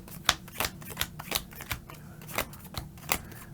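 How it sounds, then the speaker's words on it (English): A deck of playing cards is being shuffled for a tabletop dungeon card game, making a close rapid flurry of crisp riffling snaps and ticks with no talking. "Okay, so that was a terrible shuffle."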